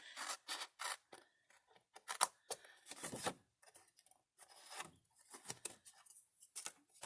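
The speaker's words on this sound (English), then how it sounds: "And then I'm going to cut this along the score line." Scissors make a quick series of close, crisp snips through paper, cutting hot cocoa packet wrappers at an angle and along a score line, with no talking.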